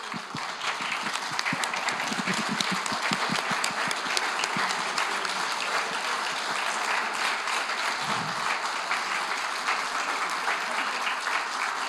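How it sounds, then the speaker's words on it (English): A church congregation applauding the mothers at a Mother's Day service, continuous dense clapping from a large crowd filling the whole stretch at an even, moderate level. "we can applaud them as well"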